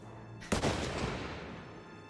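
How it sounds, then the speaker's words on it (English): A single loud gunshot rings out in the video game Hitman 3, a sharp crack followed by a brief decaying echo tail, heard alone over quiet ambience. "It's a loud-ass gun."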